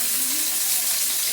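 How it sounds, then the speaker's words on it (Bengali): Chopped onion dropping into hot oil for an egg and soya chowmein, giving a steady, close, dense sizzle that holds evenly through the moment without break. "তেল গরম বসিয়ে দিয়েছি, দিয়ে দিচ্ছি পেঁয়াজ কুচি।"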